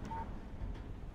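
A short electronic phone beep signals an incoming text message in the Alan Wake game, a single clear tone heard close over a low ambient hum.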